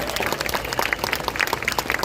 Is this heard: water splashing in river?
no